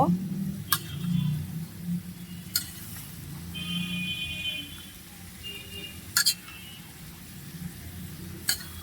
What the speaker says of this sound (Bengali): পেঁয়াজটা দিয়ে আমি এখন ভালোভাবে নেড়ে চেড়ে নিব।